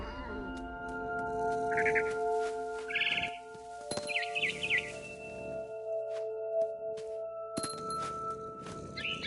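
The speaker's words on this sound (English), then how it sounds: "Then I heard chirping outside my window. It was a barn swallow going back to her nest." A barn swallow in the video game What Remains of Edith Finch chirps in short bright bursts of a few notes each, repeated several times over a steady tonal game score with occasional thumps.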